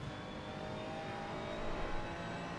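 A Ferrari race car engine in a racing video game drones steadily and continuously at a close, even level, with a slight swell near the end and no talking over it.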